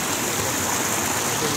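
A Himalayan-fed river near a temple in Dailekh, Nepal rushes past in a steady, close, full-bodied roar, with no pauses or voices.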